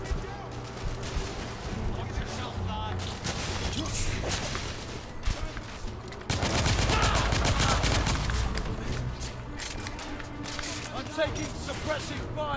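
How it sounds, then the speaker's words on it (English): Gunfire in the video game The Order: 1886, sustained rapid shooting and fusillade bursts mixed with in-game shouting, dense and loud throughout with a heavier barrage midway. "Opening fire!"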